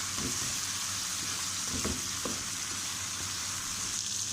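Green chillies fry in hot oil with meat for an Iranian-style meat pooja dish, a steady loud crackling sizzle with a few scraping stirs around the two-second mark.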